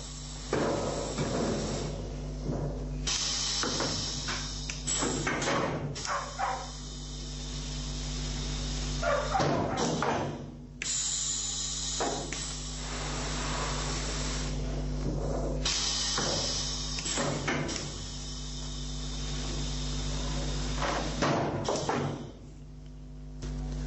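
A semi-automatic twin stair trencher cuts a thread into a wooden stair stringer, a loud steady machine drone with a constant hum, punctuated by sharp thumps and clatters as the cutter moves; no talking.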